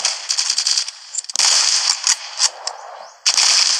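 Mosin Nagant sniper rifle fire in the WW2 shooter game Ghost of War: several loud, crisp gunshots with bolt-action mechanical clicks between them, close and dominant, with no talk.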